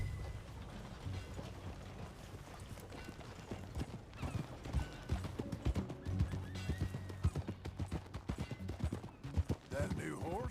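A horse in Red Dead Redemption 2 clip-clops along at a steady rhythm, hoofbeats growing louder and denser, with a whinny breaking through; game music and ambience hum underneath.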